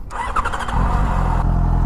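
A stock 2005 Yamaha FZ6 motorcycle starts up nearby: a brief starter whir and chatter, then the engine catches and settles into a loud, steady idle.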